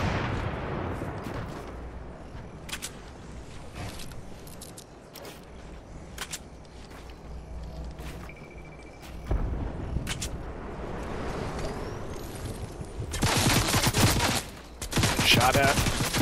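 Fortnite gunfire, mostly scattered sharp shots spread through the fight. Dense bursts of louder fire come near the end, over a rumbling, busy background.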